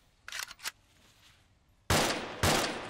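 Gunfire in the video game Arma 2: a quick cluster of sharp shots early on, then two loud, heavy reports that ring out and decay, with no voices.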